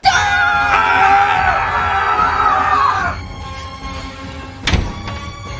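Several people yell loudly together for about three seconds, then the shouting drops away into quieter background noise, with a sharp thump near the end.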